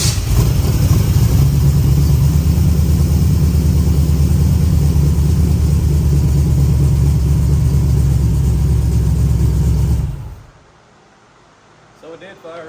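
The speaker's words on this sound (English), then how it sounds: "So it did fire up, just a little bit of a delay." Warm-ish start of an engine fitted with ACES Killshot fuel injection in a shop, running loud and steady at a fast idle for about ten seconds before cutting off abruptly to near silence.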